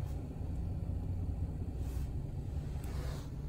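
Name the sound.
Nissan Frontier pickup truck engine idling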